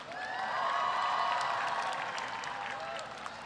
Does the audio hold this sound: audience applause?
yes